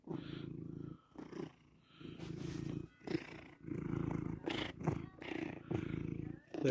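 Close, continuous purring from a contented pet house cat, pulsing in a steady rhythm with short breaks, as someone speaks softly over it.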